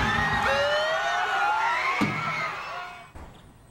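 A crowd gathered to topple a Junipero Serra statue with straps after setting it alight roars and cheers loudly and continuously, with excited shouts and whoops and a sharp thud near the end before the noise fades.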